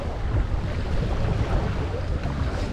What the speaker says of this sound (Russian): здесь просто ужасный ветер